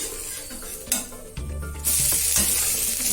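Wheat dosa sizzling on a hot pan with a sharp crackle as it is turned over, the frying hiss swelling louder after the flip and holding steady.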